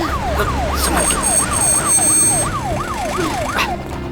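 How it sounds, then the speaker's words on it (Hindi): An ambulance siren wails in a fast, repeating rising-and-falling sweep, loud and close, with traffic rumble underneath. "एम्बुलेंस स्टार्ट करो"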